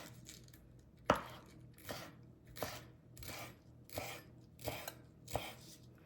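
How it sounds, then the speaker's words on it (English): A knife chops green onion tops on a cutting board in a steady run of about eight soft, rhythmic cuts, each a crisp tap with a slight swishing tail, quiet and close. "Then I'm gonna cut up a little bit of the onion top and put in there for a little color."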